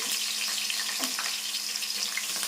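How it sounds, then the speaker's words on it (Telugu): Green chillies and chopped onion sizzling steadily in hot oil in a pan, a bright continuous crackle and hiss close to the microphone, with no talking. "వేసుకొని మంచిగా గోల్డెన్ బ్రౌన్ కలర్ వచ్చే వరకు వేపుకోవాలి"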